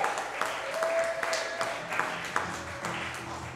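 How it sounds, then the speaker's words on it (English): Audience clapping at a bluegrass show in a brewery, a moderate spatter of hands mixed with room noise and a faint held tone, with some voices in the background. "yeah, it's all right, you can clap for him."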